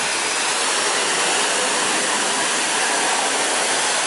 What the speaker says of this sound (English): And here comes the first wash in all these years.